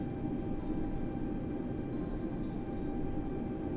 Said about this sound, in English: Taxiing out to runway 26.